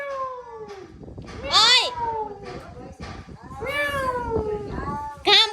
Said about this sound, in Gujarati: શેરીમાં અને મીંદડા બોલાવા છે બેઠા બેઠા